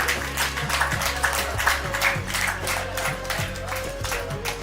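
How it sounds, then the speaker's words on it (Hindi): An audience gives loud, continuous applause for yoga performers, with rapid overlapping clapping throughout and a low musical or humming drone beneath. "जोरदार ताली एक बार और हमारे साथियों के लिए"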